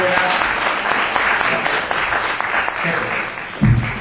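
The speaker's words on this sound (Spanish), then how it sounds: "Un aplauso, por favor" A studio audience claps to welcome a guest onto a Mexican television show, steady applause mixed with a few voices and a brief louder thump near the end.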